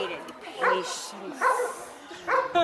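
A galgo, a Spanish greyhound, lets out three short high yips and whimpers spaced about a second apart during a clicker training session, close by, with a person talking quietly underneath.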